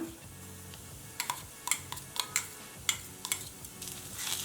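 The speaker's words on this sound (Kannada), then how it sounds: "ಗ್ಯಾಸು ಲೋ ಫ್ಲೇಮ್ ಇಟ್ಕೊಂಡು ಸ್ವಲ್ಪ ಫ್ರೈ ಮಾಡ್ಕೊಳ್ಳೋಣ" Sliced onions and green chili paste frying in a pan over a low gas flame for a North Karnataka cowpea curry, with a steady soft sizzle under a series of sharp spoon taps and scrapes against the pan as it is stirred.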